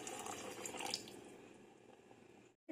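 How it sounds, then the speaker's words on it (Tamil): Water pours steadily into a pot of South Indian vathal kuzhambu curry, a close splashing gush that gradually softens before stopping abruptly. "இப்போ இந்த குழம்புக்கு தேவையான அளவுக்கு நான் தண்ணி ஊத்திக்கிறேன்"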